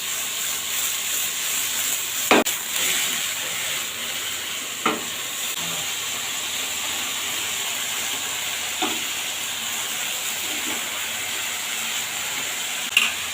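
Kachki fish chorchori cooking in a pan gives a steady low sizzle and hiss, broken by a few sharp scrapes of a spoon stirring at intervals; no voices.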